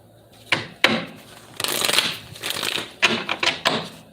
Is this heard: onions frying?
no